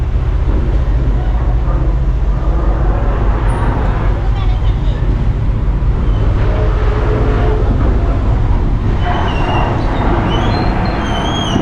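Cars roll aboard a large ferry with a loud, constant engine and traffic rumble echoing close by, while voices sound within the din.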